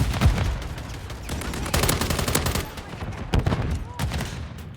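Bursts of gunfire from Call of Duty Modern Warfare 3 during a Domination match on Rust, with rapid shots in several clusters mixed with game voice callouts.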